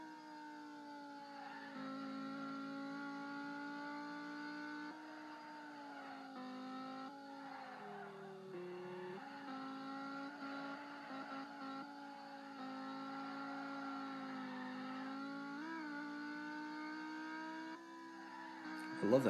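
Dodge SRT Viper ACR in the Assoluto Racing video game, its engine droning steadily with shifting revs, with occasional tire squeal, continuous and close throughout.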